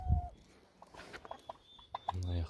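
A hen clucks softly in a nest at a rural farm, giving short scattered clucks followed by a louder low burst near the end.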